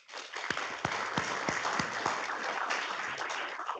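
An audience at a regional carbon market conference gives a round of applause: dense, steady clapping from many hands, moderately loud and sustained throughout with no speech over it.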